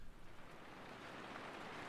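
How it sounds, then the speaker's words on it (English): Rain in a field recording that has been processed, degraded and given a shimmer effect, with the low end cut, forming a soft, even wash that swells slightly toward the end. "We've got the sound of rain, right?"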